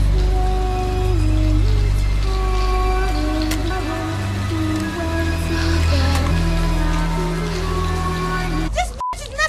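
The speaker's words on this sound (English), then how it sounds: "It's cool that you rented the rain machine" Steady rain from a rain machine on a film set pours continuously for several seconds, loud and close, with a tonal hum and music-like lines running underneath before an abrupt cut near the end.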